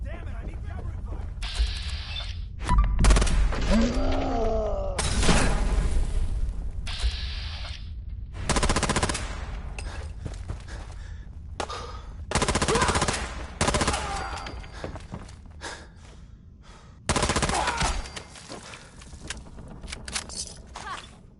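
Gunfire in Fallout 4 comes as repeated loud bursts and single shots, with echoing booms and gaps between volleys, and voices break in amid the shooting.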